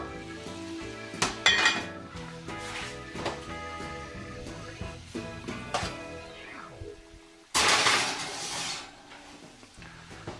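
A pot lid goes onto a pot of beef bourguignon before it goes in the oven. Close metallic clanks and knocks of cookware handling are followed by a louder scraping clatter near the end.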